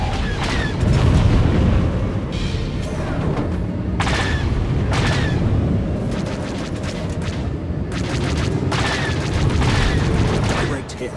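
Missiles strike a starfighter in SWTOR Galactic Starfighter as a loud, continuous barrage of deep booms and rumbling blasts, with a few sharper cracks breaking through, all close and sustained, while voice cues run under the din.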